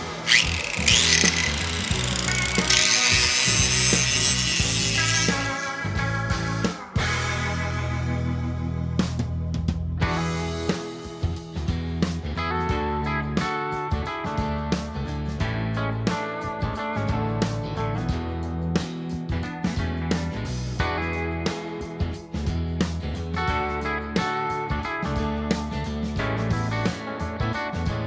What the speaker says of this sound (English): So I'll take the fab wheel and kind of clean those up real quick